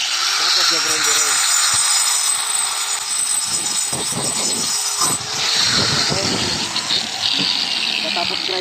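Angle grinder cutting metal flashing for a firewall installation, a loud continuous high-pitched whine and scrape running throughout, with people talking over it.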